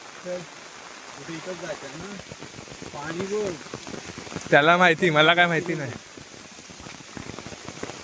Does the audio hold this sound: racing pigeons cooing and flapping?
no